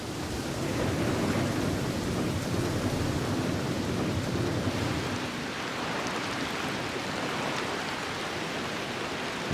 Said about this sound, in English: And with the rain comes strong winds.